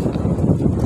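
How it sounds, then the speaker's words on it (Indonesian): Strong wind at a seaside fishing spot near Serang Beach rumbles and buffets the microphone in a loud, continuous low roar for a brief moment, with no voice heard. "Hari ini cuacanya angin sekitar jam 1 siang."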